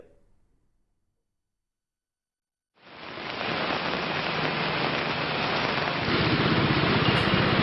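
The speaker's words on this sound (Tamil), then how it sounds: "கனமழை வெளுத்து வாங்கியது" Heavy downpour on city roads in Coimbatore bursts in after a few seconds of near silence, then holds as a loud, steady, dense hiss of rain to the end, with no voices.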